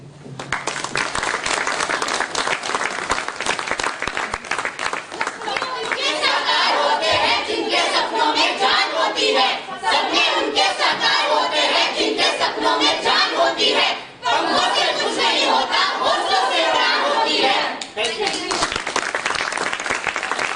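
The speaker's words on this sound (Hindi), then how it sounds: "तालियां बजती रहनी चाहिए।" Audience applause and crowd noise after a street play about disability awareness, loud and sustained for about twenty seconds, with cheering and voices mixed in.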